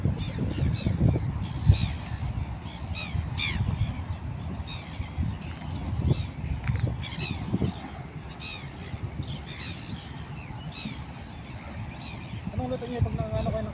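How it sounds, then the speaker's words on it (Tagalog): A flock of birds flies in to roost, with many harsh calls and chirps repeating throughout at middle distance under people talking nearby. "nagliliparan na yung mga ibon. Magsisitulugan na."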